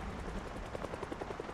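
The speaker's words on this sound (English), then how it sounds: "Very obviously a chopper above me." A helicopter flies overhead during a thunderstorm in Project Zomboid, its rotor giving a rapid thumping pulse over a rumbling, rain-heavy background, fairly faint and steady with no talk.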